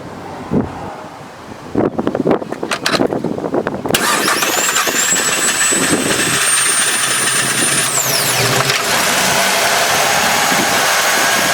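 A 2016 Ford F-150 3.5 V6 with transmission fluid in its cylinders cranks in several rapid stuttering bursts, then catches and settles into a loud, steady run with a whining tone and wind buffeting the microphone.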